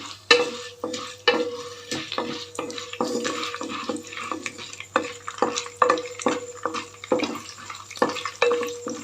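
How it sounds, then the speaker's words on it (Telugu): Chana dal and urad dal roast in a hot pan, stirred with a steady run of rhythmic scraping strokes and light rattling of the lentils against the metal. "శనగపప్పు కొంచెం మినప్పప్పు వేసాను ఇది కాస్తంత వేడవ్వాలి"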